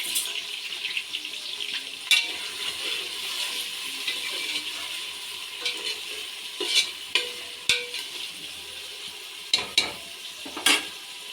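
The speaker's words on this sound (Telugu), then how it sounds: "ఆనియన్స్, పచ్చిమిర్చి, కరివేపాకు అయితే వేస్తున్నాను. ఆయిల్ అయితే వేడయింది." Onions, green chillies and curry leaves frying in hot oil for goat head curry: a constant close sizzle with sharp clicks and scrapes of a spoon stirring the pan at irregular intervals, no talking.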